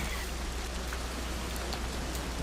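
Steady heavy rain from a storm weather system in CryEngine 3, a dense continuous hiss of drops without pause, filling the whole stretch with no voices over it.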